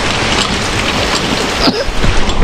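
Heavy, unrelenting rain falls steadily during a prolonged wet spell at a home, a dense broadband hiss with a few faint scattered knocks and no talk.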